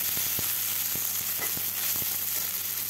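Sliced onions fry in oil with a dense, continuous sizzle, close and fairly loud, and a few soft stirring taps fall through it.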